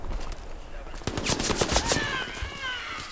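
Bursts of machine gun fire ring out in the World War II shooter Hell Let Loose, a rapid string of sharp cracks over a couple of seconds, moderately distant, amid game ambience.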